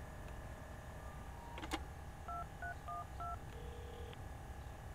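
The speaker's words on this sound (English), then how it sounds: "I gotta make a phone call" Telephone dialing in the video game Prison Break: The Conspiracy: a short run of paired keypad tones beeps in quick succession, followed by a longer steady tone, heard alone and fairly faint with no talking.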